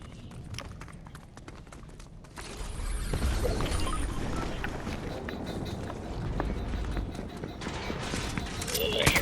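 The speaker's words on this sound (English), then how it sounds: "I hear footsteps." Running footsteps in the Fortnite video game, a steady patter of quick steps over rumbling in-game ambience, with voices talking over it.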